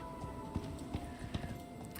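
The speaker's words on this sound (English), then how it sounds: "we're getting stupid horse spawn" Horse hooves in the video game Icarus, a few soft clip-clop steps in a loose rhythm, faint and partly masked by steady background noise.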